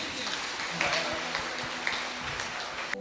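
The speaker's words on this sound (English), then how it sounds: "Give a very good clap to Him." A congregation claps during a church gathering, a continuous wash of hands under a voice and tonal sound, moderately distant and steady.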